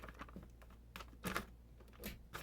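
Keys strike unevenly on a Royal typewriter, a run of crisp clacks with a few louder hits standing out, close and alone.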